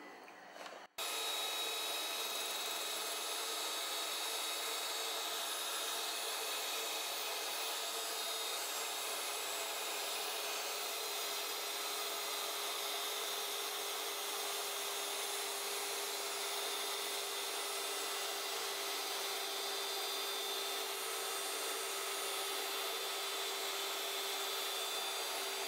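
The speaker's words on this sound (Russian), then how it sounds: "Взбивала я сейчас вместе с маслом на минимальной скорости." An electric hand mixer runs at minimum speed, whisking sponge cake batter as vegetable oil is poured in, a steady high motor whine that continues evenly and alone.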